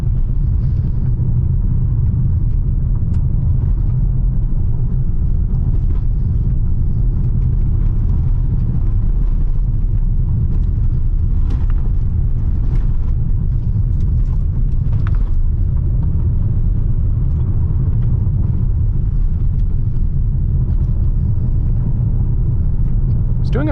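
Hyundai Palisade rolling over a washboard gravel road, a steady loud low rumble of tires and suspension with faint rattles and occasional knocks throughout, no voices.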